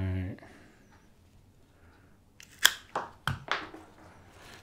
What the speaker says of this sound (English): So I'm just going to cut that to length.